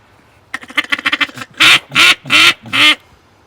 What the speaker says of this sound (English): this duck call out of wood that I got out of a beaver dam